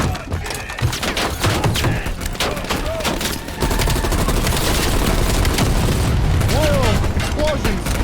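Explosions and gunfire from the Call of Duty Black Ops Cold War game, a dense, continuous barrage of booms and rapid shots that swells louder midway, with a person talking over it at times.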